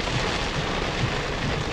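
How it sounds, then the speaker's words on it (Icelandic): Heavy rain pours steadily during Hurricane Irene's 2011 storm in Ocean City, New Jersey, a dense continuous wash of drops with low rumbling underneath and no voices. "Ég vissi að það ætti að koma rigning en ekki alveg svona,"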